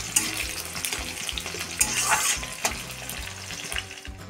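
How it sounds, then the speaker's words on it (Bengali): Chopped onions frying in mustard oil with bay leaf and whole spices, a steady bubbling sizzle with occasional stirring scrapes and clicks, close and moderately loud, no talking. "পেঁয়াজগুলো একটু লাল লাল করে ভেজে নেব"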